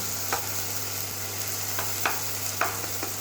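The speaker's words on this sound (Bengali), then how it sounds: "দেখেছো এই যে মশলাটা কষে নিচ্ছি ভালো করে," Spice masala stir-fried in a pan, a constant sizzle under a low steady hum, broken by several sharp clinks and scrapes of a spatula against the metal at irregular intervals.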